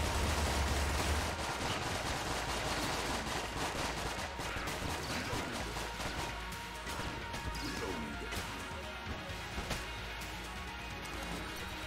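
Very rapid gunfire from platinum bullets in Enter the Gungeon: a dense, continuous stream of crackling shots and impacts filling the whole stretch, loud and unbroken, with someone occasionally talking underneath.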